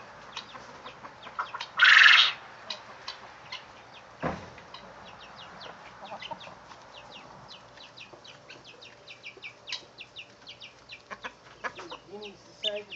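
Quail on a farm cluck and chirp in short, scattered calls throughout, fairly faint and close, with one brief louder squawk early on.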